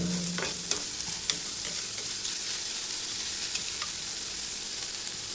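Onion fries in a pan with a steady, close sizzle, while a spatula stirs it with occasional light taps and scrapes; no one speaks.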